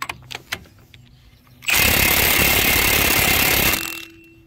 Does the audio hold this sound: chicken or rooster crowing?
no